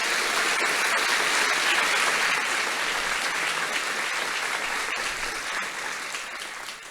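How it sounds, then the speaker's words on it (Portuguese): A large audience at a Brahma Kumaris talk gives a long, even round of applause, a dense hiss-like wash of clapping that slowly fades toward the end. "E agora vocês têm licença para uma salva de palmas para a gente receber B.K."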